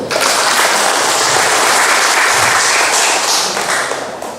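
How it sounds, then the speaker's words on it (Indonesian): Audience applause at a regional council member's constituency recess meeting in Terbanggi Besar, Central Lampung, a dense, steady clapping that fills the room for about four seconds before thinning slightly at the end. "Mau kasih tepuk tangan boleh."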